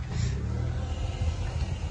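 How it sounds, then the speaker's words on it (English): A Mazda 2 Hybrid 1.5 CVT automatic idles with a low, steady rumble, close and fairly quiet, heard alone with no talking. "So you can hear the car actually"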